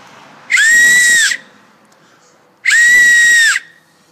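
A whistle blown through an acorn cap held between the knuckles gives two loud, shrill blasts, each lasting about a second, with a pause between them.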